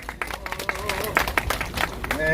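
A crowd claps for a speaker at a construction workers' rally, dense, scattered handclaps running steadily throughout, mixed with a voice speaking over them.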